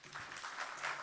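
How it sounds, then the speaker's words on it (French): A conference audience claps briefly in a short, steady burst of applause, moderately loud, with no talking over it. "On peut l'applaudir."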